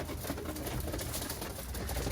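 Birmingham Roller pigeons cooing close by in a loft, soft low burbling coos over a constant rustling background.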